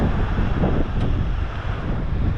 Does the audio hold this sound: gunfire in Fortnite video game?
no